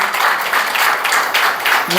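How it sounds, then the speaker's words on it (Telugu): A church congregation claps together in a dense, continuous burst of applause that fills the room. "చప్పట్లు కొట్టున్నాను, చప్పట్లు కొట్టండి."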